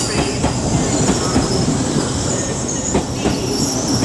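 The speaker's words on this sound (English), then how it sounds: "LNER service to Leeds." An LNER passenger train passes through Peterborough station on the East Coast Main Line, loud and close, with rumbling wheels, rhythmic clickety-clack over rail joints and some wheel squeal.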